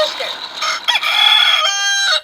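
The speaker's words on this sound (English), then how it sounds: "The rooster says. Oh, that's a rooster." A toy farm animal plays a recorded rooster crowing, one bright, harmonic cock-a-doodle-doo call lasting about two seconds, loud and alone.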